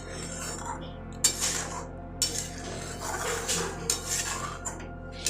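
A spoon stirs potato payesh with milk in a pan, making intermittent scraping strokes and light clinks against the metal over a low, steady background hum, with no one speaking.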